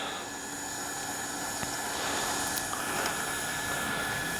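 A Freewing F-14A Tomcat RC jet with twin 64mm electric ducted fans whines steadily and rises in pitch as it takes off, heard at moderate distance outdoors.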